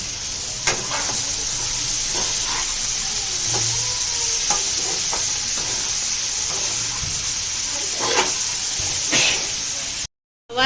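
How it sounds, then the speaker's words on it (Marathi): Cluster beans (gavar) sautéed in a pan, a steady loud sizzle with occasional spatula scrapes and taps spread across the stretch, ending in a brief silence. "आता आपण गवार टाकूया परतून घेऊया"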